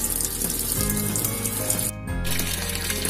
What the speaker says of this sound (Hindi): ये देखिए हमारा जो पानी है वो भर रहा है, आधे से थोड़ा कम टब भर चुका है